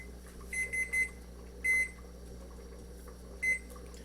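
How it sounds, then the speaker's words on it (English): Kitchen timer beeping during chili cooking, in short bursts of three quick beeps, then a longer beep and one more after a pause, fairly soft over a low steady kitchen hum. "Okay, timer went off."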